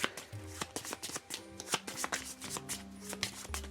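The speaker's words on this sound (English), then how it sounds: "So I'm just going to shuffle his damage deck real quick" A deck of board game cards is shuffled quickly, a rapid run of riffling flutters and soft snaps, close up with no talking.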